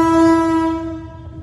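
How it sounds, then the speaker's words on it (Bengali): A train on the railway line sounds a single loud, steady horn tone lasting about a second before it fades, with a low rumble beneath it. "লাইন ধরে প্রতিদিন শত শত ট্রেন যায়"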